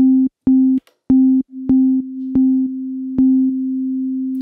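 A pure electronic sine tone from a Nonlinear Labs C15 synthesizer pulses in short repeated bursts, each starting with a click, then settles into one sustained hum with a faint reverb tail.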